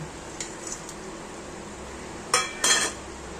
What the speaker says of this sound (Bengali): ঝোলটা আমার হয়ে এসছে, এখন হচ্ছে মাছগুলো দিয়ে দেবো